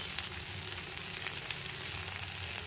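Sliced okra frying in a pan with turmeric, salt, chili powder and coriander powder, giving a loud, continuous crackling sizzle throughout.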